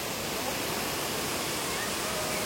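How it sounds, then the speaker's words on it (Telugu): Cheeyappara waterfall in Kerala in the rain, a dense, steady broadband rush of falling water, loud and continuous with no breaks. "I show you the water falls."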